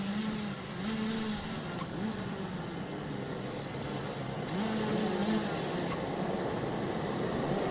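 DD2 and DD2 Masters racing kart engines rev steadily on the grid before a race start, a dense continuous two-stroke drone with rising and falling pitch that holds loud throughout.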